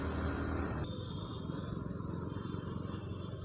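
A motorcycle rides along a busy city road, its engine a steady, close rumble with wind noise, continuous and fairly loud throughout.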